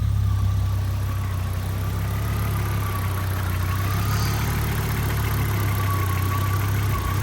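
An Audi UrS4 engine idles with its MAF sensor unplugged, a steady, close, low rumble with a faint whine above it and no variation in pace.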